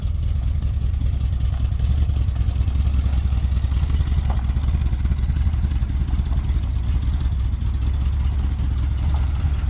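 A vintage street machine car engine idles steadily up close, a continuous low rumble with a slight clatter and no breaks or talk throughout.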